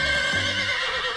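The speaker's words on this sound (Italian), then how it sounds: "Tutti voi conoscete già il mio cavallino Rusty." A cartoon pony gives a loud, bright whinny in an animated rodeo show, a single sustained neigh up close with faint hoof clip-clop beneath and no talking.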